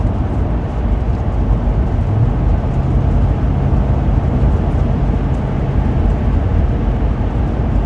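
A Class C RV cruises along a highway, its engine and tire noise forming a loud, steady low rumble that runs unbroken from start to finish without any talking.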